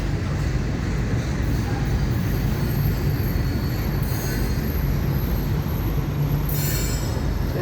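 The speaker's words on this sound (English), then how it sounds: "The FEC 101 pulling out of Jacksonville, Florida this early morning" FEC Train 101 freight train leaving Jacksonville, Florida at night, railcars rumbling past steadily with sharp high wheel squeals flaring up twice over the continuous low roll, no voices.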